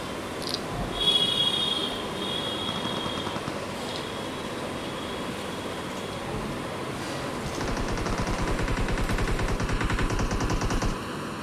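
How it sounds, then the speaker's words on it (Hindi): Continuous gunfire from another player in an online shooter game, a rapid rattling machine-gun-like stream at moderate distance, steady throughout and growing denser and louder toward the end. "यही है जो फायर कर रहा है।"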